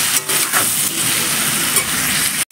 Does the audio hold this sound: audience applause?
no